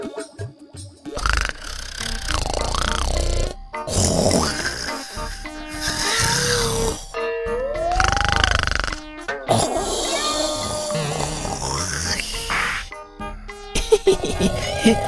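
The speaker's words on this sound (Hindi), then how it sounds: "देखा तो इस इंस्पेक्टर को कैसे खर्राटे मारकर सो रहा है।" Cartoon inspector snoring loudly in his sleep, exaggerated comic rasping snores mixed with squeaky cartoon sound effects and music, loud and continuous.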